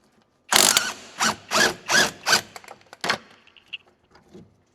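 Ratchet turning 17mm bolts on the back of the steering knuckle of a 2007-2011 Honda CR-V FWD during a rear wheel bearing job, heard as about six close, loud bursts of clicking in quick succession, fading to a few softer clicks.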